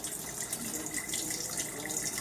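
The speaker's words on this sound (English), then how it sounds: "Now this here, I'm just gonna dump out the water that the potatoes were in." Water pours out of a pot of soaking potatoes into a sink in a home kitchen, a steady close splash and gush that runs throughout.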